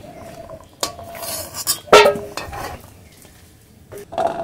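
Boiled potatoes are lifted from a pot into a bowl, with a few sharp metallic clinks and scrapes of a utensil against cookware spaced over several seconds in a quiet kitchen.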